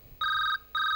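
Two electronic pulses of a ringing telephone, bright steady tones with a brief gap between rings, fairly quiet and without voices.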